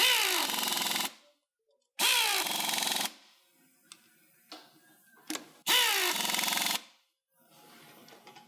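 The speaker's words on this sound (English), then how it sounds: "Drive down our bolts across pattern." A power tool drives down bolts in a cross pattern during reassembly, three loud whirring bursts of about a second each separated by quiet gaps with a few clicks and clanks, close up and without speech.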